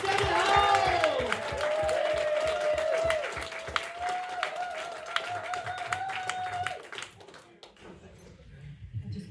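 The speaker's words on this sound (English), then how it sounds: "you can all start the applause when I say so" An audience claps and cheers in a small venue, loud dense applause with whoops and a sustained shout, thinning out toward the end.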